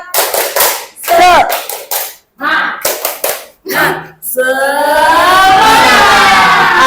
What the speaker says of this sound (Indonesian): Oke, tepuk semangat dulu dong, kayaknya ngantuk.